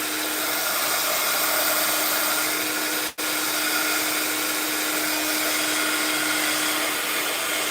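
A hair dryer runs steadily over a sheet of black card, a loud continuous blowing whir that cuts out for a split second midway, then resumes at the same level, with no voices.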